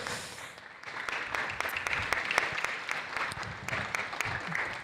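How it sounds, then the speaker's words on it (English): Audience applause at a virtual Grand Prix racing event in a dome venue, a crowd clapping steadily with a few sharp, close claps standing out over about five seconds. "Give him a round of applause."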